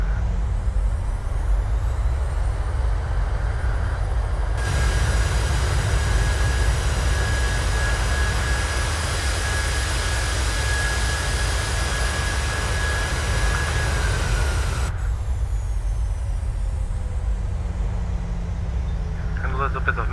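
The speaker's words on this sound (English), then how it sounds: "So let's get the reversers out." A Boeing 737-700 rolls out after touchdown in Microsoft Flight Simulator as its thrust reversers deploy, bringing a loud, steady broadband jet roar with a whining tone that lasts about ten seconds before cutting back to the lower engine hum.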